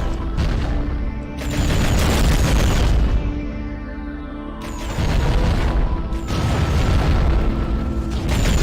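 Underwater shooting and explosions in the submarine combat game AquaNox, a series of loud booming blasts and rumbling bursts that rise and fall in waves, close and heavy.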